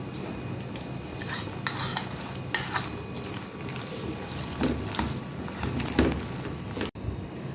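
Red sauce being stirred into pasta in a pan, with soft scraping and clinks of a utensil against metal over a steady low sizzle, a few sharper knocks standing out near and clear.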